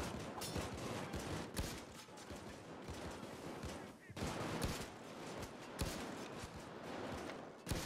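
A sentry gun fires in the video game Payday 2, rattling out dense, rapid bursts of shots that repeat with brief pauses, fairly close and continuous against a noisy backdrop.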